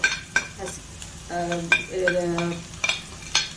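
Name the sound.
squid stuffing frying in a pan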